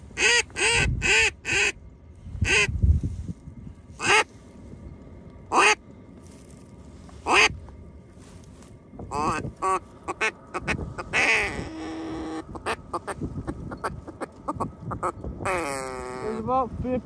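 Ducks quack in repeated loud bursts on a North Dakota hunt, among honking geese, with people talking between the calls and a drawn-out call near the end.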